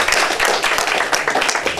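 A brief, close burst of applause at a teen poetry workshop, a handful of people clapping loudly and quickly for just under two seconds.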